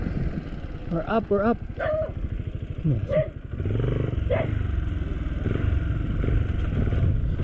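An angry dog barks several times in short bursts near a hillside subdivision road in the Sierra Madre, mixed with a motorcycle engine idling and revving nearby.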